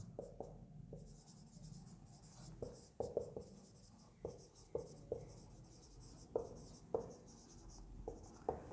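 Chalk or marker taps and scratches on a board as a thermal engineering equation is written out, a steady series of short strokes at close range, faint and with no talking.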